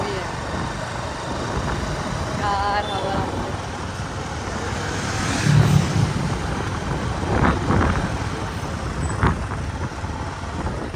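Motorbike ride through road traffic with a steady broadband rumble of wind and engines throughout, passing vehicles swelling briefly, and a faint horn-like tone early on; no clear talk.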